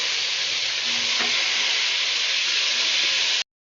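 Cauliflower frying in hot oil in a wok, a loud, continuous close sizzle with faint stirring clinks, steady for over three seconds and alone before stopping abruptly.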